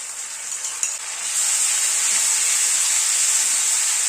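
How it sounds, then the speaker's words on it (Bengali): Crushed spice paste hits onions frying in a pan for a chicken curry and is stirred in, setting off a loud, steady hissing sizzle after a single knock. "মশলাটা দিয়ে এবার একটু নাড়াচাড়া করে নিচ্ছি"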